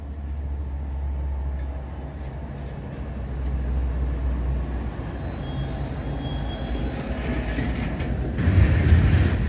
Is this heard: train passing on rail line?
yes